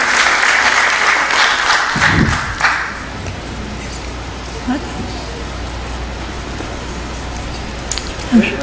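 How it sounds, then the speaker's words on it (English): Applause at a school board meeting honoring a middle school, a burst of clapping at the start that dies away after a couple of seconds, leaving a quiet room with faint rustles and knocks. "So, big round of applause."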